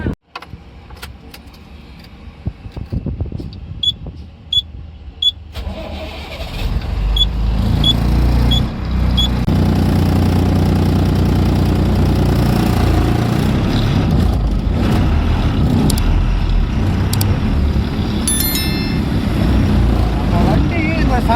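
A vehicle engine starts after a few seconds of quiet jingling and clicking, then settles into a loud, steady idle that continues to the end, with some talk underneath.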